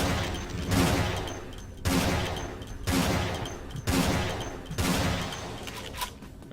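Bursts of video game gunfire, several sustained volleys of rapid shots, each roughly a second long with brief gaps between, loud and dense with no talk over them.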